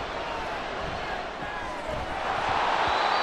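A stadium crowd in the American football video game Madden 24 roars and cheers after a big play, a broad continuous wash of noise that builds slightly toward the end.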